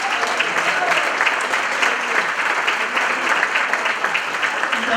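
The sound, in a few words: applause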